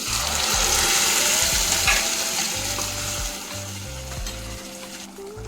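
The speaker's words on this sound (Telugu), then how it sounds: "ఇప్పుడు టమాటా గ్రేవీ ఇందులో వేస్తాను" Tomato gravy hits hot oil with fried curry leaves in a pan, a loud steady sizzle with stirring scrapes throughout.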